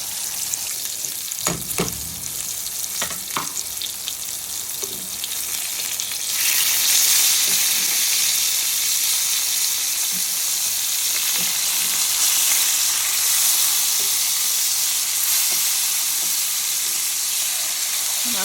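Hilsa fish frying in hot oil under a splatter screen, a loud continuous sizzle with crackling spatter that swells louder partway through and stays steady, close up, with no talk.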